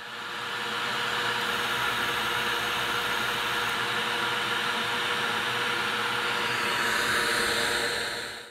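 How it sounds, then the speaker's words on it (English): A shop vac running in reverse, blowing air through a section of induction piping for a supercharged 420cc hemi engine, a steady loud whooshing drone that holds for several seconds before trailing off at the end. "here I'm using a shop vac backwards, and instead of sucking, it'll blow through the section of induction piping"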